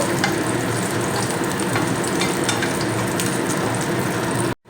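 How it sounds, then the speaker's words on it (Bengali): Potatoes frying in mustard oil with nigella seeds give a steady, loud broadband sizzle with faint stirring clicks, running unbroken until it cuts off abruptly near the end. "দু চা চামচ পরিমাণে সর্ষের তেল দিয়েছি হাফ চা চামচ কালো জিরে দিয়ে দেব তেলের মধ্যে আর দেব কেটে রাখা আলু দিয়ে তেলের মধ্যে একটু সময় কষিয়ে নেব"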